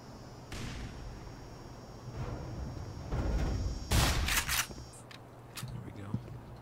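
A grenade blast in Black Mesa lands as a sharp, loud burst partway through, followed by scattered cracks and debris-like pops over a low game hum, with a voice speaking briefly earlier.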